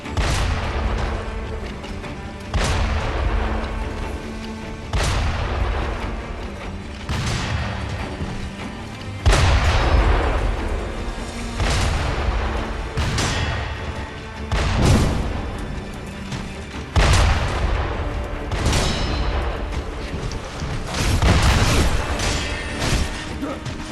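Repeated shotgun blasts from the Sekiro video game, roughly ten loud booming shots at irregular intervals of one to three seconds, each a sharp broadband crack with a rumbling tail, over a continuous busy game soundscape.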